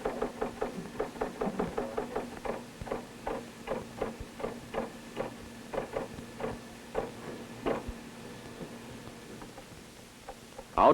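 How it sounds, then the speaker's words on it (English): Enemy convoy truck engines picked up by a battlefield acoustic sensor: a steady run of rhythmic knocking pulses, faint and mechanical, repeating over a low hum with no voices. "an audio operator analyzes the sounds of the truck engines"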